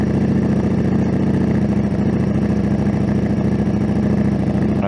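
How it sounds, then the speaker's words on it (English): A 2024 Ducati Panigale V4S sport motorcycle engine idles steadily up close, a loud continuous low rumble that stays even throughout with no talking. "I'm about to test ride the 2024 Ducati Panigale V4S."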